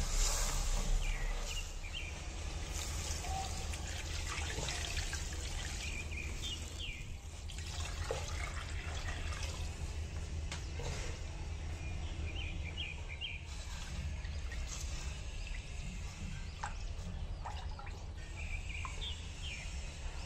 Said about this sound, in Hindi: अब मैंने इसमें 2 लीटर पानी ऐड कर दिया